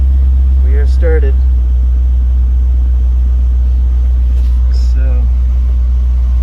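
A C5 Corvette engine runs just after starting, holding a loud, steady low rumble at idle while someone speaks briefly over it.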